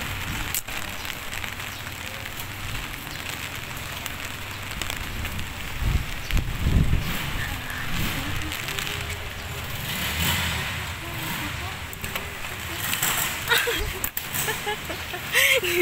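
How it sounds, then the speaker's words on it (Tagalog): Strong wind buffets a microphone in a steady roar with gusts swelling and easing, while a voice speaks faintly underneath. "Ang lakas ng hangin, guys."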